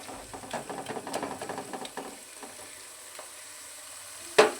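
Onions fry in a pan with a soft, crackling sizzle and light stirring scrapes, quietening toward the end before a sharp clatter.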